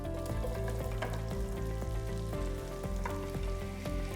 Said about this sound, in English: I have 4 big white onions I've sliced into wings, and we're gonna saute those